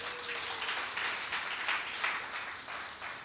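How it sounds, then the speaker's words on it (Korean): Church congregation applauding at a Christmas Eve service, a steady wash of many hands clapping at moderate distance, fairly soft and continuous throughout with no speech over it. "주님께 영광의 박수 올려드리겠습니다"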